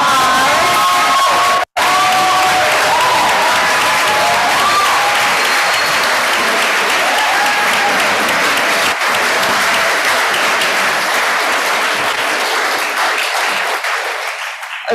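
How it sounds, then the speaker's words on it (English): Loud, sustained applause from a large crowd for speakers at a senior speeches event, with cheers and whoops mixed in, briefly cut off early on, then gradually thinning toward the end. "incoming speakers one more round of applause."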